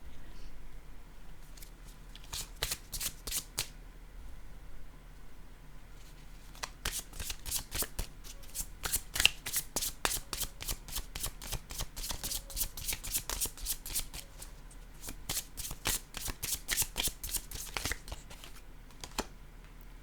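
Playing cards are riffled and shuffled by hand in repeated quick bursts of crisp flapping, pausing between rounds, close and clear with no talking.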